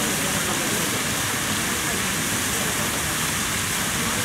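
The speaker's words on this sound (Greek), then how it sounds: "Το στριβάνι αυτό έχει κατασκευαστεί πάρα πολύ παλιά και χρησιμοποιεί την τεχνική spray out για να πετάει νερό προς όλες τις" An old garden fountain in Madrid sprays water outward in all directions, giving a steady, close broadband splashing and hissing wash that holds even and continuous throughout.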